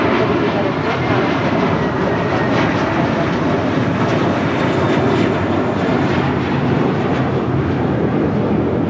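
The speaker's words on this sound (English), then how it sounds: "United Airlines Flight 1584 coming up from Jackson. It's an A319." A United Airlines Airbus A319 jet arriving at Los Angeles International Airport, a loud, steady broadband engine roar holding throughout, with a faint voice in the background.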